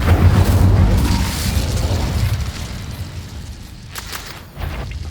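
A fire spell blast in the video game Hogwarts Legacy lands as a loud, booming burst at the start, then rolls into a fading rumble before a second, smaller swell near the end.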